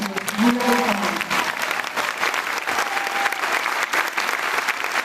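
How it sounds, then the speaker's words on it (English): Town hall audience in Waltham claps for a congresswoman, a full, even round of applause from a crowd, with a brief voice heard early on. "who also deserves a round of applause"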